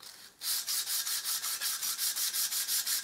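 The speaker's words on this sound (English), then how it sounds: "This has had a second coat, just wants a light sand now." Sandpaper rubs lightly along the grain of painted wood that has had a second coat, a close, even back-and-forth scratching in about a dozen regular strokes.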